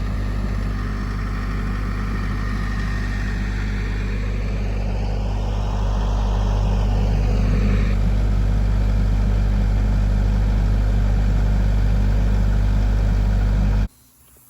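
A tractor engine runs steadily with a strong low droning hum and constant rumble, close and loud, with a brief rising whine in the middle before the sound cuts off abruptly near the end.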